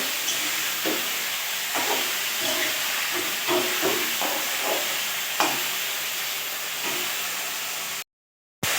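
Chicken pieces coated in butter masala frying in a pan, a steady hiss of sizzling oil with scattered stirring clatters close by, quiet and without talk, ending in a brief cut to silence.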